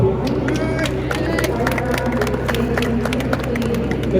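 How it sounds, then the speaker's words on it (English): A crowd at a charity car event claps and cheers in a dense, continuous burst of applause, loud and close, with chatter mixed in. "give a big round of applause"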